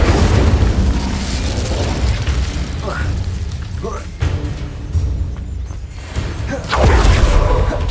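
Spell blasts explode in the video game Hogwarts Legacy: a steady run of deep booms and crackling bursts over a rumbling battle bed, with a louder, heavier blast near the end.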